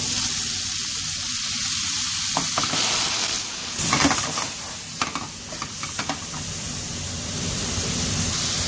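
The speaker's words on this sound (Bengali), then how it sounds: "এই রসুন আদা আর মরিচটা হালকা ভাজা হলেই আমি পেঁয়াজগুলো দিয়ে দিব" Garlic, ginger and chili sizzle and fry in hot oil for a prawn curry, a steady frying hiss with intermittent stirring scrapes and clinks, close and fairly loud, no talking.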